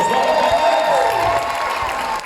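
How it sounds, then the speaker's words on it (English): Audience applause and cheering from a family crowd with children at a Butlins show in Bognor, a loud dense burst of clapping that swells briefly and then slowly fades, with a voice speaking over it. "So can we give Butlins a big round of applause?"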